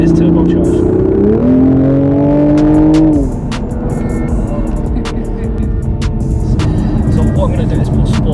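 A turbocharged Toyota GR Supra accelerates hard, its engine note climbing steadily then dropping at an upshift, loud and close from inside the cabin, followed by a steady cruising drone with a person talking over it.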